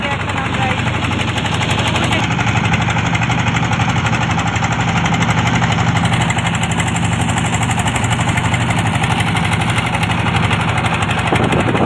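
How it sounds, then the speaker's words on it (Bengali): A trawler boat's engine pounds loudly and steadily as it pulls away from a river ghat, a close, unbroken mechanical chugging drone with vibration underneath. "ট্রলার ছেড়ে দিয়েছে ঘাট থেকে।"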